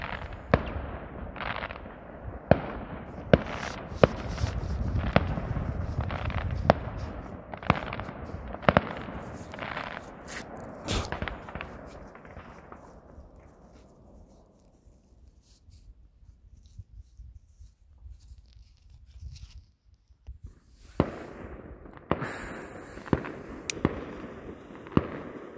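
New Year's Eve fireworks at Lipnice: a rapid series of sharp bangs and crackles, dense at first, then a lull with scattered pops before a new burst of loud explosions, heard from a moderate distance.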